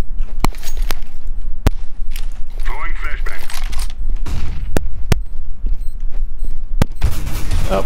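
Sharp gunshots in Counter-Strike: Global Offensive crack out as a few isolated loud reports spread across a competitive match, set against steady game noise and a player talking.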